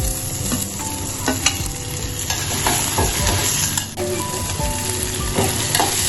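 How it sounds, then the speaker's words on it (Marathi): Onion and ginger-garlic paste sizzle steadily as they are stirred in a hot pan for a shellfish masala, with scraping spoon strokes over a continuous loud fry. "कांदा छान परतला की त्यामध्ये आपण आलं लसूणची पेस्ट घातली"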